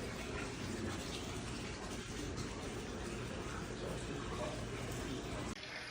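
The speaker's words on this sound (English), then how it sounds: "Got this pump running with the sink line." Tap water pours from a sink-line pump into an aquarium tank, a dense, steady gushing fill that holds constant at close range before easing near the end.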